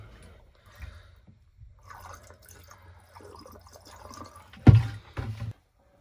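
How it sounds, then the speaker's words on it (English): Liquid is poured into the P-trap of an RV sink in a Jayco Melbourne camper, a soft trickle and gurgle building to a louder splash and glug near the end, otherwise quiet. "we're just gonna pour some down in this P-trap"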